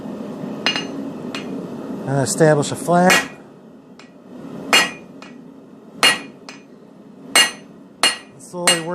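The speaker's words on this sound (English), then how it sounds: "I'm going to use the flat side of my hammer" Sharp metallic hammer strikes ring out one at a time at a slow, steady pace, using the flat side of the hammer while forging a hammer drift, with someone speaking briefly between blows.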